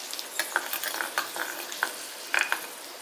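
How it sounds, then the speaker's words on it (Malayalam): Beetroot and curry leaves frying in a pan for a Kerala beetroot pachadi, with a spoon stirring through them: soft sizzle under scattered scraping clicks and taps, fairly close, no talk. "അപ്പം നമുക്ക് ഒന്ന് ഇളക്കി കൊടുക്കാം."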